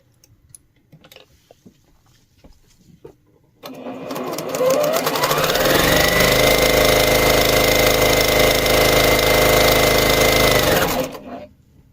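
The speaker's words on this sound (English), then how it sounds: "And I'm just going to sew down." A sewing machine stitches down coaster fabric along a 3/8 inch seam, starting after quiet handling noises and running loud and steady for about seven seconds before stopping.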